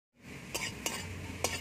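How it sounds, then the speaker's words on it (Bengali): Cumin seeds dry-roasting in a pan for a mashed-vegetable spice mix, with three scraping stirs against a soft, steady background sizzle, close and clear with no talk. "প্রথমে আমি এই যে জিরেটা ভেজে নিচ্ছি"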